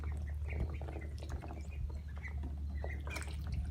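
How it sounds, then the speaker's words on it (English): Young khaki Campbell ducklings on a Central Texas farm give small, scattered peeping calls over a steady low hum, close to the microphone. "So these are khaki Campbells."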